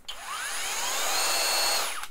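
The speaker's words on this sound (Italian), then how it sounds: "Oggi vi farò vedere un trapano avvitatore smart" A cordless smart drill driver with an electronic clutch, rated 30 Nm, whirs up to speed, holds a high, steady whine for about two seconds, then winds down, close and alone.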